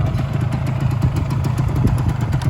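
Vehicle engine idling steadily before a gear test, a close, continuous throbbing rumble with a rapid clattering pulse, heard alone and evenly loud throughout.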